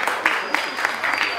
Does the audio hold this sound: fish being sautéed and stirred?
no